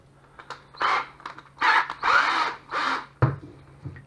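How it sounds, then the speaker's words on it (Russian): A cordless drill twists copper wires together, close and loud, in several short whirring bursts of varying length separated by quiet gaps. "скрутить можно с помощью шуруповерта"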